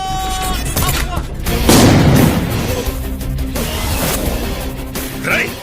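Gunfire rings out in a Telugu action film climax, a loud burst of shots and booms mixed with dramatic music and people shouting and talking over it.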